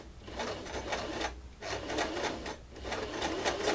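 Sewing machine stitching a curve in fabric, a steady close rasping whir in three runs separated by short pauses, with no talking.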